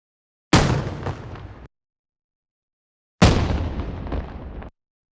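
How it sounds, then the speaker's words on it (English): Two heavy explosions, each a sudden loud blast that rumbles and decays over about a second, separated by a short silence. "Explosion maybe?"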